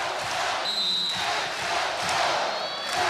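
A home crowd cheers and shouts in an arena during a Hawaii versus Idaho State women's volleyball match. The noise is a loud, sustained roar, and sneaker squeaks cut through it.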